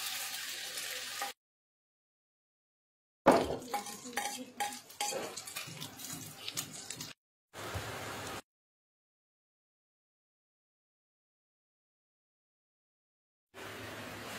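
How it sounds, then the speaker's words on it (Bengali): An egg frying in hot oil gives choppy bursts of sizzling and crackling, broken by stretches of silence, with some stirring and utensil clatter against the pan, close and fairly loud. "এবারে আমরা ডিমটা তেলের মধ্যে ঢেলে দিব।"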